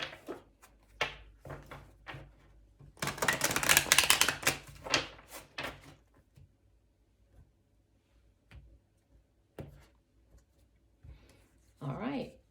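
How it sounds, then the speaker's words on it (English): Tarot cards shuffled close up in a quiet room, a short burst of rapid riffling flutter with scattered card taps before and after, and a voice speaking briefly at the end. "we'll do one last shuffle."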